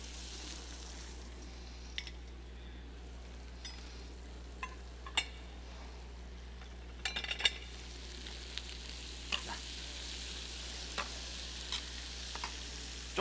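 Zucchini and onion stir-frying for jjajangmyeon over medium heat, a steady soft sizzle throughout with occasional clinks and scrapes of a utensil against the pan, close and without talk.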